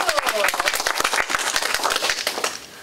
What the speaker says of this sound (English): So please give a big round of applause for Professor David Mason.